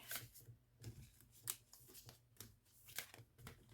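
Soft, quiet tarot card shuffling with repeated riffling bursts and crisp snaps, steady and close, with no one talking.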